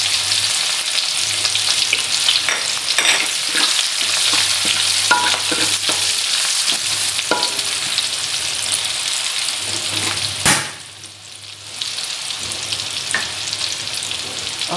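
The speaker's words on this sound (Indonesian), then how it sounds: "sekarang saya nak tumis bawang putih dan bawang merah ya" Garlic and shallots sizzle loudly as they are stir-fried in a pan, a dense, continuous frying hiss broken by scraping stirs and one sharp clatter near the end.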